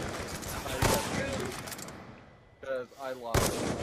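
Gunfire from a Call of Duty Search and Destroy match: rapid bursts of shots crackle through most of the stretch, with a sharp report near the end, while players talk excitedly over it.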